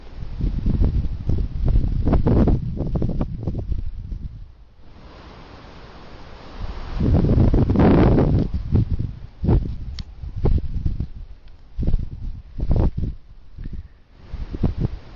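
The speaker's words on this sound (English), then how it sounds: "it is quite windy, as you can tell" Heavy wind buffeting the microphone in loud gusts, with a brief lull before another strong rush of blowing air.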